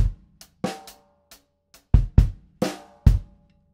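Drum groove for a song, sparse kit hits with punchy bass drum strokes, including an added kick on the and of four, played alone in a steady, close, moderately loud pattern.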